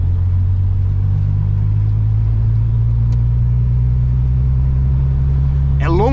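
A six-cylinder Volkswagen Golf pulls away in first gear, its engine giving a loud, close, steady low drone that holds for several seconds, with a brief rustling burst near the end.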